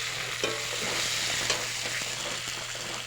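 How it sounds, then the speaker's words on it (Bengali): Bitter gourd and potato frying in a pan, a steady close sizzle with soft crackles and occasional light scrapes of stirring, and a low constant hum underneath. "আর এই যে এখানে উচ্ছে আলু ভাজা হচ্ছে।"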